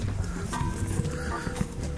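Horse hooves clip-clopping, a series of irregular, muffled thuds from a horse being ridden, heard close with background noise throughout.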